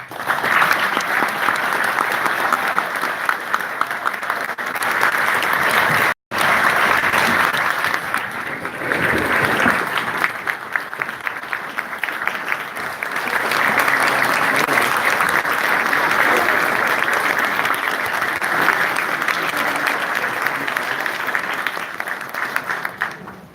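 A council meeting audience at the Torrance City Council gives steady, sustained applause for outgoing members, a dense wash of many hands clapping for over twenty seconds with a brief break, loud and continuous.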